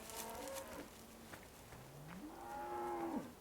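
Cattle in Farming Simulator 2013 give two long, drawn-out moos, one at the start and a louder one near the end, heard fairly close against a faint hiss of background.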